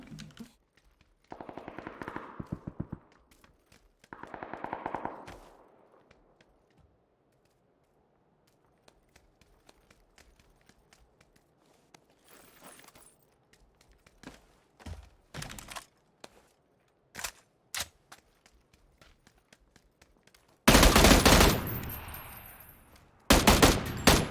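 Gunfire in PUBG during a drive-by, with scattered single shots and short bursts through the middle and two loud, dense bursts of automatic fire near the end, some sounding close.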